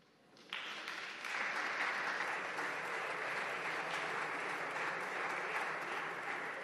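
Applause in the Spanish parliament breaks out suddenly and swells into sustained, dense clapping from many hands, holding steady for several seconds at a moderate distance with no voices over it.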